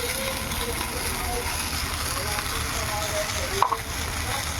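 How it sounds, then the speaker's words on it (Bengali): Vegetables frying in a pan for a fish curry give off a continuous close sizzle, with one brief utensil clink near the end. "এইখানটায় সবজিগুলো ভেজে নিচ্ছি"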